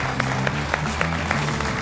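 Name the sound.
studio audience applause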